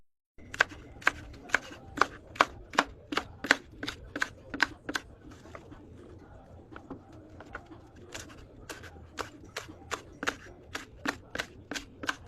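Winged beans (sigarilyas) being sliced with a knife on a cutting board, giving rapid, regular crisp chops close up in two long runs separated by a brief pause, with quiet room noise underneath.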